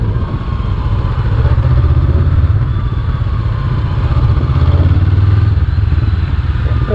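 A Honda Hornet 500 with a 500cc engine runs steadily and loud through a test ride on a dirt-strewn course with cones, giving a constant low rumble that swells slightly without pause.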